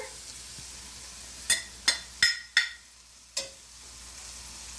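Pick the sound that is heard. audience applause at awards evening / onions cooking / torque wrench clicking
onions cooking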